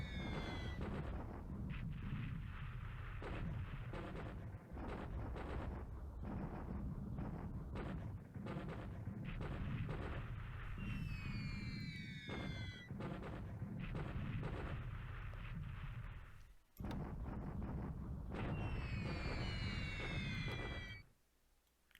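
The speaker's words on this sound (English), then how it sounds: "we're going in for a bombing of Batavia" Bombing raid explosions in the World War II strategy game War in the Pacific: a continuous, dense rumble of blasts and booms with occasional descending whistles of falling bombs, loud and sustained, with no talk.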